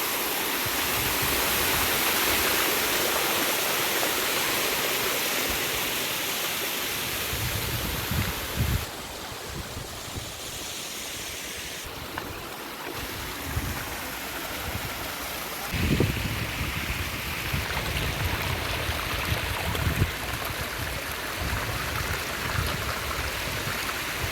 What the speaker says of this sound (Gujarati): સરસ મજાના ઝરણા ચાલુ છે તમે જોઈ શકો છો